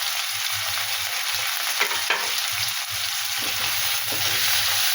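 Cashews and other ingredients fry in a pan for an egg and cauliflower curry, producing a continuous bright hiss and sizzle with soft stirring scrapes and low rumbling underneath, close and fairly loud, without speech.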